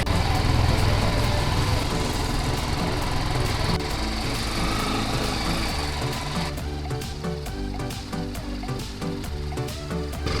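A motorcycle engine runs steadily in first gear while riding off-road on a Himalayan route toward Gangotri, a loud, continuous, buzzing drone that persists from start to finish with slight shifts in tone.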